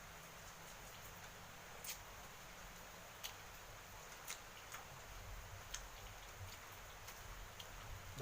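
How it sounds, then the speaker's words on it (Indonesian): Heavy rain falling outdoors, a steady broadband hiss of drops with occasional sharper drip ticks on surfaces, fairly quiet and continuous with no talking. "di luar hujannya gede banget coy"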